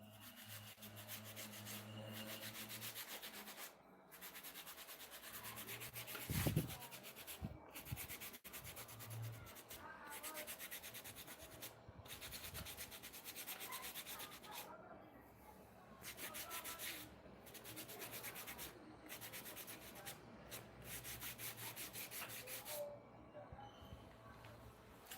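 Sand being rubbed across a coarse stone sharpening surface to clean and refresh it, a steady gritty scraping that runs almost continuously with brief pauses, close and moderately loud.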